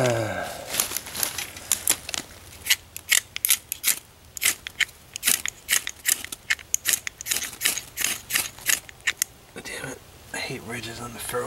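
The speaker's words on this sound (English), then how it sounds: "Got a trusty ferro rod and" A scraper is dragged along a ferro rod at a lakeside campsite, giving a rapid series of sharp, close rasping strikes in uneven bursts, loud and crisp, with a voice speaking briefly between them.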